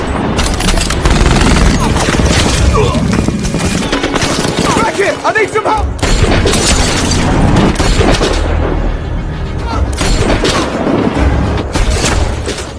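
A loud, sustained shootout from the sniper film SNIPER: dense bursts of rapid gunfire and booming shots crackle continuously, with a brief lull midway, over an intense action soundtrack.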